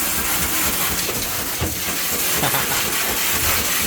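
A wet blast cabinet from Vaporhone Technology blasting a part, giving a steady, loud hissing spray of water and abrasive that holds evenly throughout, with a few faint knocks underneath.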